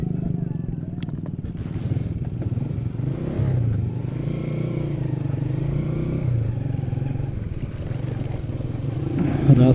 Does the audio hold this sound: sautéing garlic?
no